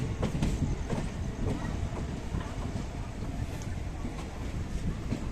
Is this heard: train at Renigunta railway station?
yes